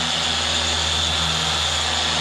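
A Minzerna 400 polisher runs at higher speed, making a steady, loud, continuous motor whine with a constant hum and no change over the short span.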